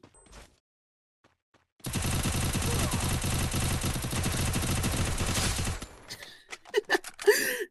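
Rapid sustained automatic gunfire from a shooter video game, loud and dense for several seconds after a near-silent start, then fading into a few scattered shots and clatter.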